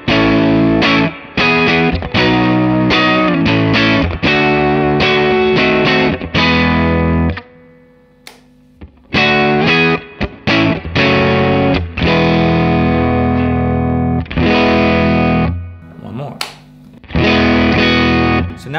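Gritty, distorted electric guitar chords ring through a Matchless HC-30 amp dialed with extra low end, played in loud strummed bursts with brief pauses and decays between phrases, no voice over it.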